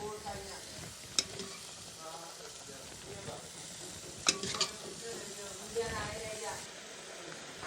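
Chickpeas sizzle and fry in masala for chole bhature while a spoon stirs them, with occasional sharp scrapes and clicks against the pan. A person talks over the steady frying hiss.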